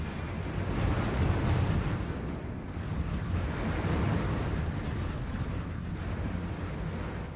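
Orbital bombardment in the space strategy game Stellaris, a continuous rumbling roar of distant explosions with deep booming low end and crackling bursts, rolling on without pause and no one talking.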